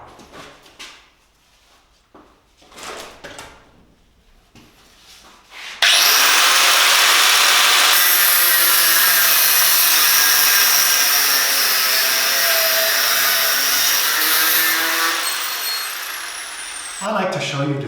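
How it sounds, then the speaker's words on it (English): An angle grinder cuts through a threaded rod, starting abruptly after a few seconds of quieter talk and handling, then running as a loud, continuous, harsh screech for about twelve seconds before tapering slightly. "I will use the angle grinder."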